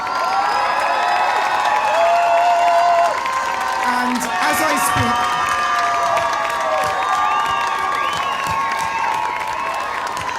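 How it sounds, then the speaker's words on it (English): Outdoor Pride in London crowd applauds and cheers for the event directors, a broad wash of clapping and whoops continuing under and after a speaker's amplified voice. "So I want a really special round of applause just for the Pride directors."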